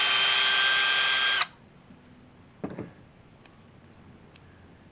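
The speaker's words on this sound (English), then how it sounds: "I need to drill that some more" A handheld power drill whirs steadily for about a second and a half, loud and close, then cuts off abruptly, leaving faint background with a couple of brief clicks.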